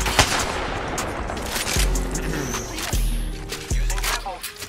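Sniper rifle shots from an Apex Legends match, several sharp loud cracks spaced about a second apart over steady game ambience, with voices talking during play.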